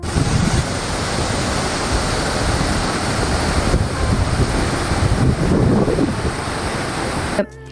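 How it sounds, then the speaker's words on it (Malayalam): A steady, powerful roar of water rushing under pressure through partly raised shutters at Bhoothathankettu Dam, loud and continuous, with no voices, cutting off abruptly at the end. "ചെറിയ രീതിയിൽ ഉയർത്തി വെച്ചിട്ടും ഭയങ്കര പ്രഷറിലാണ് വെള്ളം ഒഴുകിക്കൊണ്ടിരുന്നത്."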